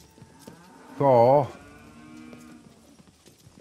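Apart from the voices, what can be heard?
cows mooing in video game King Arthur: Knight's Tale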